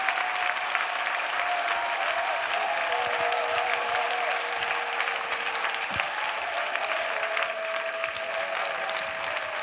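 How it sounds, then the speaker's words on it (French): A congregation at a church intercession prayer service applauding, a dense steady clapping from a large crowd that continues throughout, with a sustained tone and faint voices underneath. "Now you can clap."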